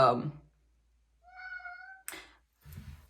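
A house cat gives a single drawn-out meow in a quiet indoor room, close and clear, between short bits of a person's speech before and after.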